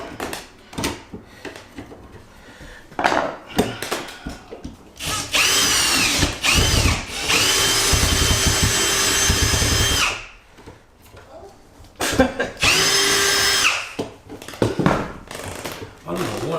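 A power drill drives screws into a wall power point, whining in long loud bursts with short pauses and a final run, close to the microphone, while someone speaks briefly between the bursts.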